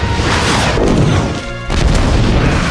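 A missile launch and explosion from the Avatar film: a loud, dense roaring blast that fills the clip, dips briefly, then surges again with heavy rumbling impact.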